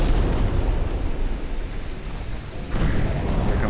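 A warship takes a big hit during a naval battle in a World War I–era dreadnought video game, giving a loud, rumbling explosion that fades slightly and then flares again near the end.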